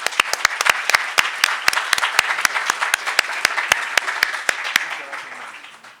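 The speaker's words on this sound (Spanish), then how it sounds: "Un gran aplauso al maestro" An audience claps for a guest speaker at a lecture on constitutional interpretation, a dense steady round of applause with sharp individual claps standing out, tapering off at the end.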